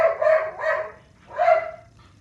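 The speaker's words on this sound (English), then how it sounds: "Fucking dog's gonna be loud." A dog indoors barks loudly three times, two quick barks close together and then a third after a short pause, with no talk.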